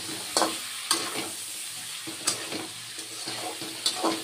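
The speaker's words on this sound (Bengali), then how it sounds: "মশলা দিয়ে কষিয়ে নিলাম, এখন আলুটাও দিয়ে দিচ্ছি।" Spices and potatoes fry in a pan for a vegetarian potato and stem chorchori, with a steady sizzle broken by several sharp spoon clacks against the pan.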